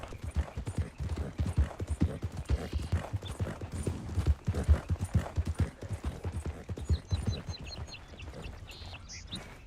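Horse hooves clip-clop steadily through a Western video game set in 1898, a dense rhythmic run of close, moderately loud hoofbeats, with a brief whinny and faint bird calls behind and no speech.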